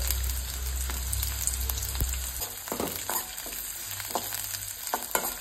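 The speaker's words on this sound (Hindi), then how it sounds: "अब हम इसमें डालेंगे ओनियन, लहसुन की कलियां, और जो हमने हरी मिर्च ली थी ना उसको तोड़ कर डालेंगे।" Onion, garlic cloves and broken green chilies fry in hot oil in a pan, a steady close sizzle with scraping stir strokes and no talking.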